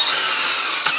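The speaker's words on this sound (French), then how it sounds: "On va passer sur la visseuse et visseuse perceuse de Walt." A DeWalt drill driver spins at high speed in drill mode, giving a close, steady high-pitched motor whine that holds throughout, alone with no voices.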